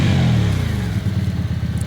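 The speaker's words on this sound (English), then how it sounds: "You start it up. Because it's twin cylinder, I think it sounds a bit nicer than the normal ones." A twin-cylinder motorbike, a first bike, fires up and settles into a steady, fairly loud idle with an even, throbbing engine pulse close by, with no talking.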